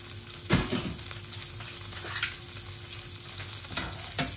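About two tablespoons of butter melt and sizzle in a pan as the base for a lemon-and-dill chicken, making a continuous hissing fry broken by a few louder scraping stirs.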